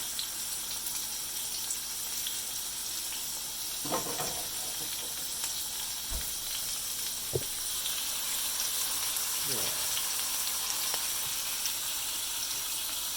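Morel mushrooms sizzle in a pan over medium-high heat, a steady close hiss of frying with a few soft clinks and stirring scrapes along the way.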